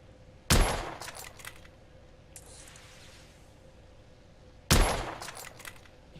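Two loud, sharp gunshot blasts from a firearm in The Order: 1886, each a sudden crack with a decaying tail, spaced about four seconds apart over a quiet ambient background.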